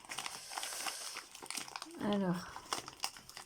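Wrapped package being opened by hand, with bursts of crinkling packaging close by, interleaved with someone speaking French and a brief higher-pitched voice midway.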